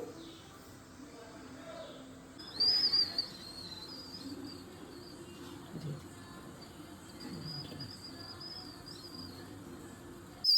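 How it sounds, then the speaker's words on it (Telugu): A milk cooker on the stove gives a thin, high whistle in two faint stretches over a low background hum of the kitchen. "విజిల్ పొంగదు ఇట్లా విజిల్ వస్తుంది పొంగకుండా"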